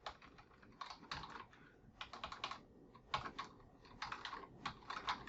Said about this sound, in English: we're going to type in set